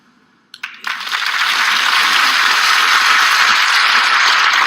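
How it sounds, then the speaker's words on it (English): Sudden, loud, dense audience clapping breaks in after a few scattered claps and holds at full strength as a steady, unbroken roar to the end. "Those fucking hypocrites clapping"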